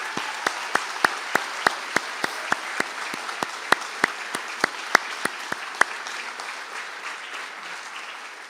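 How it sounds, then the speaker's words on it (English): Applause at a university conferring ceremony: a steady series of sharp, distinct claps at a moderate level that stops after about six seconds, leaving a quiet room. "please stand for a well-earned round of applause."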